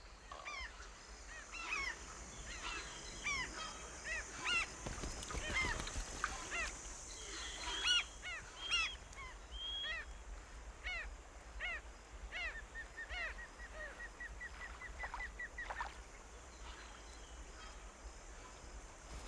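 Migratory birds call repeatedly along a rainforest river, a mix of honking and chattering cries overlapping at moderate distance over a soft background hum.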